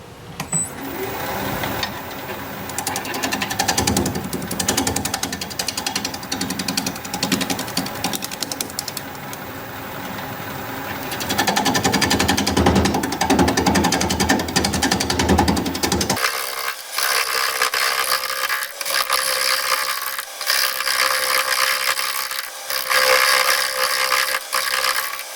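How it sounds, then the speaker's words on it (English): A wood lathe spins at 660 RPM as a 5/8 inch bowl gouge cuts a turning, giving a continuous rattling, chattering scrape that grows rougher midway, then changes character to a thinner, brighter cutting noise. "We're going to be using a 5/8 inch bowl gouge, turning at 660 RPM"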